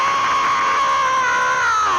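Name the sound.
game master imitating a creature's scream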